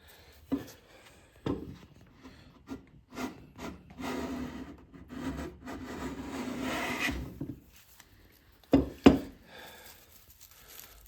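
A Wood River 5 1/2 jack plane cutting shavings from oak, heard as a series of close rasping strokes of varying length with sharper knocks of the plane near the end, no talk.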